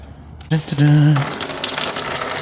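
Water draining out of a rusty hydraulic fluid oil filter, a short burst of gushing liquid that starts abruptly and continues as a close, steady splash.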